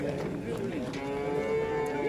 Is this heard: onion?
no